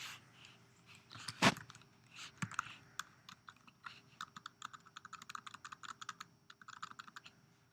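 Typing on a computer keyboard: irregular bursts of light, close key clicks growing into a quick steady patter, with one louder clack early on and no talk.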